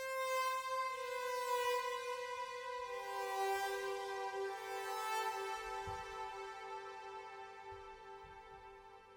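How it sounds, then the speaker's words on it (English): A Flex preset dystopian synth lead holds long, bright, buzzy tones that shift pitch across a few slow held notes, with a faint low thump underneath, playing alone in a beat. "The last melody that I used is this flex"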